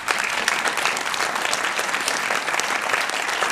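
Sustained audience applause at the inauguration of a school gymnasium, many hands clapping in a steady, dense wash, moderately loud with no voices on top.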